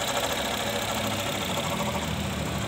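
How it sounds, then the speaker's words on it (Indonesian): A flood-damaged Honda Jazz engine idles close by with a steady, rough, uneven chugging hum that continues without a break. No voices are heard. "Oh, mesin udah nyala, udah hidup. Oh, masih ada agak kasar."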